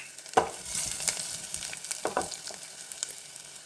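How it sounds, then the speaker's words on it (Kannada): Crushed garlic frying in hot oil with mustard seeds over a low flame, for a harive soppu palya: a soft, even sizzle broken by a few sharp stirring scrapes and clatters near the start and middle. "ನೋಡಿ, ಬೆಳ್ಳುಳ್ಳಿ ತುಂಬ ಫ್ರೈ ಆಗಬೇಕು ಅಂತಿಲ್ಲ"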